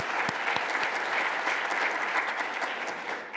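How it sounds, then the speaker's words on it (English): Steady, dense audience applause at the 2025 US-Japan Space Collaboration Symposium after the lightning-round pitches. Many hands clap evenly throughout, with no talking over it. "one more round of applause for our fantastic and timely lightning talk pictures"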